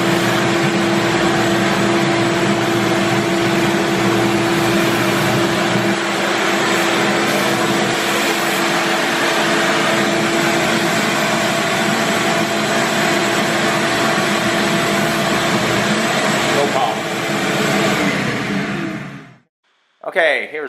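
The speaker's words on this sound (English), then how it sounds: "I'm just going to vacuum and clean." A Ridgid WD4070 portable 4-gallon, 5 horsepower wet/dry vacuum runs with a loud, steady whine and airy roar, close and unbroken for most of the time before cutting off abruptly and briefly restarting.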